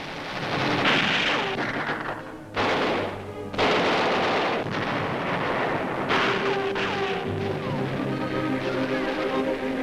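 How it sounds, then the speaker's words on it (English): Tank striking a Japanese mine during the 1944 WWII battle on Angaur Island, heavy loud blasts and gunfire-like bursts over a sustained battlefield rumble. "A tank hits a Japanese mine."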